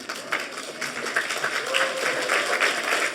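Applause from the room for a resident at a residents association meeting, a steady patter of many hands clapping together for about three seconds with no speech.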